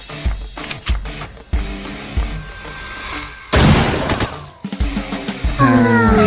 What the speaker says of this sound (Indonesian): Kita taruhan tembak saja. Masing-masing 5 tembakan.